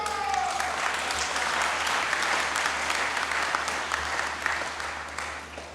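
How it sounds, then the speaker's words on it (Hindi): A church congregation at Sunday Mass breaks into loud, sustained applause during the homily, a dense wash of clapping that fills the space and tapers off slightly at the end. "तालियां नहीं बजानी है और नारे नहीं लगाने हैं"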